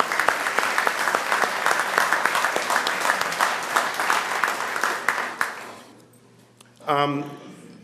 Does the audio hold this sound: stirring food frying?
no